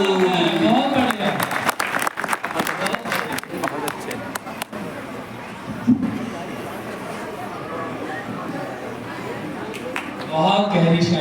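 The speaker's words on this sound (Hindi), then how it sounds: "बड़ी जोरदार तालियों से इनका स्वागत" An audience at a Hindi poetry gathering (kavi sammelan) in Bhojipura claps loudly and steadily for several seconds, the applause dipping slightly midway and swelling again at the end, with crowd murmur and a voice speaking over it.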